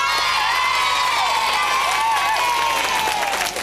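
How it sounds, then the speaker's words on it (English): A studio audience of children applauds and cheers on a 1984 live children's TV comedy show. The sound is a loud, dense, continuous wash of clapping with shrill shouts and whoops that runs throughout. "Come on, give him a big round of applause."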